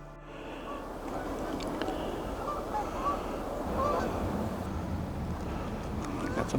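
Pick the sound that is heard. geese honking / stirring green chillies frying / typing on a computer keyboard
geese honking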